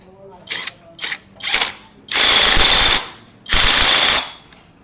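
Ratcheting wrench tightening a nut on a centrifugal oil filter during an engine repair, three short clicking bursts followed by two longer loud continuous ratchet runs, close up with no talking.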